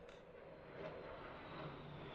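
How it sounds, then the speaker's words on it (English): Fighter jet passing overhead, a faint, steady distant roar with a broad rumbling hiss that holds for the whole moment without changing much. "Did you hear that fighter jet?"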